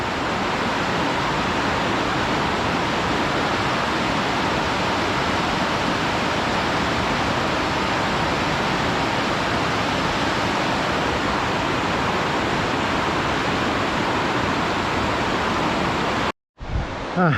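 Loud, steady roar of the rushing Carbon River on Mount Rainier's Wonderland Trail, a dense continuous wash of water filling the whole stretch alone before cutting off abruptly near the end.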